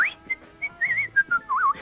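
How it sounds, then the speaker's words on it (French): A person whistles a bright, lilting melody in short phrases, close and clear, with brief pauses between notes. "il sifflote gaiement"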